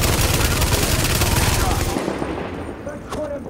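Turret fire from The Division shooter game rattles out in a loud, sustained automatic burst, then stops, leaving quieter in-game ambience with faint scattered sounds.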